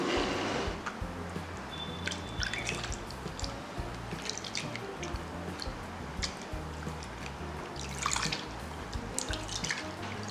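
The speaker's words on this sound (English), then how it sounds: "So when it's completely dried, you can go ahead and wash it off with water." Water splashes and drips as a face is washed off, with scattered wet splashes and trickling close by over a constant background, no talking.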